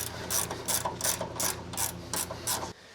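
A ratchet clicks in quick, evenly spaced bursts while tightening a bolt on a 1940 Mercury suspension upgrade, close and alone, about nine pulls before stopping.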